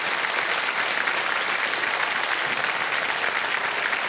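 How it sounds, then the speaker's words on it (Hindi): A studio audience on the Indian quiz show Kaun Banega Crorepati breaks into dense, steady applause that fills the whole stretch at an even level, with no voices standing out. "तालियां बजती रहे"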